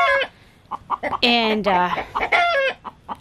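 Chickens cluck and squawk up close in short bursts and drawn-out calls as they mix with ducks in a backyard flock, with a voice briefly heard at the start.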